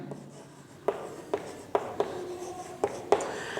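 Pen or marker writing a physics error-analysis result by hand, a series of about six sharp taps and strokes at uneven intervals, fairly close and alone without talk.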